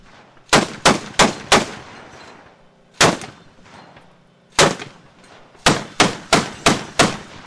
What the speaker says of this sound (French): Donc vous voyez déjà les deux canons Hadouma pour faire des tirs de précision contre des ennemis embusqués